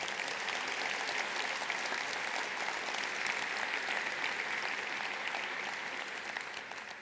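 A conference audience at a tech event in Nantes applauds volunteers, a dense, sustained roll of many hands clapping evenly from a distance, tapering slightly toward the end.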